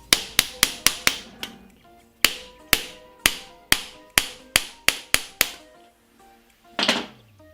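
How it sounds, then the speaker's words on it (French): Sharp, loud metallic hammer blows strike an impact screwdriver on a 125–150cc dirt bike engine part during an ignition change, about fifteen evenly spaced hits in quick bursts, ending with a brief scraping rustle. "Directement au tournevis à frapper."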